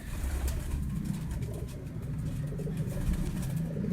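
Pure-breed pigeons kept by a Lahore breeder coo softly and steadily at close range, a low continuous murmur with a faint engine-like rumble in the background.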